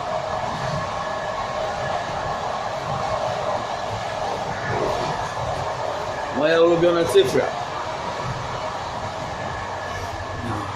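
Inside a moving train carriage, a steady rumbling hum and airy whoosh run throughout at moderate level, with someone speaking briefly over it.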